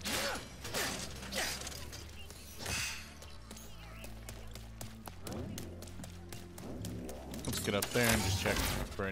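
Bolt crank mechanism being turned in Ratchet & Clank: Rift Apart, a ratcheting mechanical clanking and whirring under game music, with voices talking over it.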